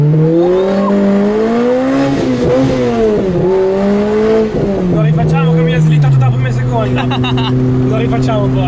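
A Lotus car drifts past with engine revs rising and falling and squealing tires, loud and close, with a sharp burst of tire noise toward the end; speech is likely mixed into the engine noise.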